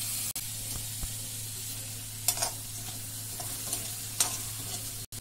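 Washed moong dal roasting in a hot kadai, a quiet steady sizzle with a few brief scraping stirs and a couple of sharp knocks, close and faint with no talking.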